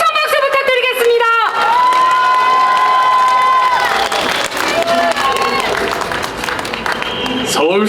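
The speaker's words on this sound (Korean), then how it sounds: "다시 한번 힘찬 박수 부탁드리겠습니다." A loud outdoor crowd cheers, whoops and applauds at a Seoul mayoral campaign rally, a sustained roar of shouting and clapping close by, with an amplified voice speaking over it.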